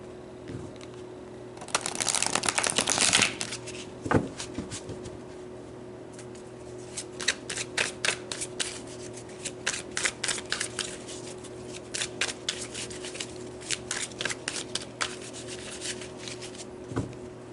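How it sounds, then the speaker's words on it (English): A deck of tarot cards is shuffled close by, first in a dense riffling burst and then in a long run of soft, rhythmic rubbing and tapping strokes against a faint steady hum. "Pull some more cards to clarify further."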